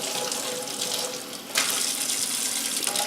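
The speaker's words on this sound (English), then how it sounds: "Rinse the paddle off, and then rinse them while rubbing the brushes through the paddle." Running tap water rinsing makeup brushes rubbed across a cleaning paddle at a sink, a steady close splashing rush that briefly dips and then surges again, no voices.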